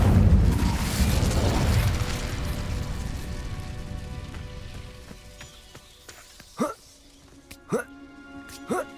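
An Incendio fire spell going off in the video game Hogwarts Legacy, a loud whooshing burst of flame that trails off into a fading crackle, followed by a few short sharp game effect sounds.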